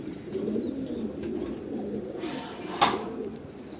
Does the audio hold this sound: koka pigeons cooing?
yes